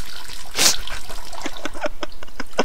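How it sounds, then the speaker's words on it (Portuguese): A game character urinating in a video game simulator: a steady trickle of liquid pattering on a surface, with a brief louder splash early on and small intermittent drips throughout, close and fairly loud. "Vá, mija, amigo, mija aí"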